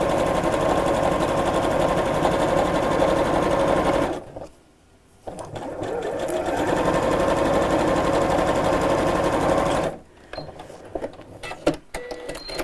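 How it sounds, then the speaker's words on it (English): A sewing machine stitches down the centre of a zip in two loud, continuous runs separated by a brief pause. Light handling clicks follow the second run. "sew down the centre of the zip."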